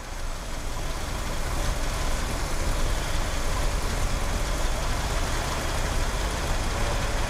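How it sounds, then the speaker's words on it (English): A 1969 Cadillac Fleetwood's engine idles steadily, a continuous low rumble with broadband noise that holds at an even level throughout, with no talk over it. "Let it idle."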